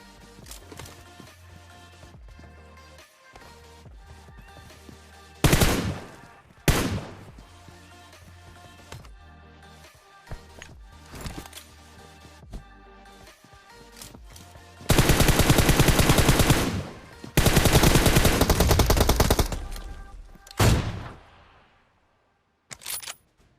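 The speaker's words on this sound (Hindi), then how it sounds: "मैं खिड़कियों पर बहुत ही तगड़ा प्री फायर इसलिए दे रहा था ताकि ये बंदा हल्का सा भी झांकने की कोशिश कर रहे हैं तो इसके पड़ जाए" Gunfire in the PUBG Mobile video game, with AWM and M24 sniper rifles in play: scattered single shots over quiet game ambience, then two long, dense bursts of rapid automatic fire near the middle and a few later shots.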